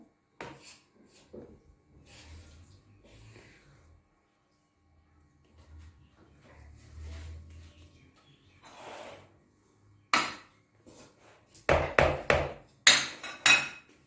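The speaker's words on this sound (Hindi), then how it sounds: "ये स्लाइस तोड़ के डालूंगी बाइंडिंग के लिए और इन सबको मिक्स करूंगी अच्छी तरह।" Potato cutlet mixture is worked by hand with broken bread slices for binding, giving soft squelching and rubbing sounds. Quiet pauses separate the bursts, and sharper taps and knocks come near the end.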